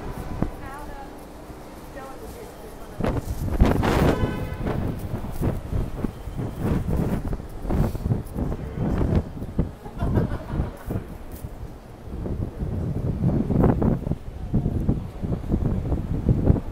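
Gusty wind buffets the microphone in low rumbling bursts on a street in Soho, New York, while people talk over it, with rustling movement throughout.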